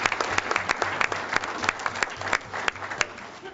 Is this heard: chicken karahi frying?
no